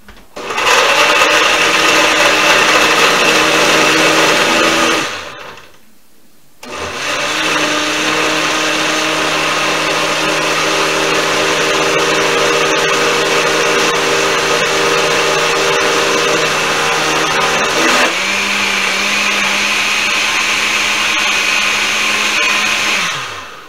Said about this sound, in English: I got my trusty old little blender, and it's going to be loud, but I'm going to turn it on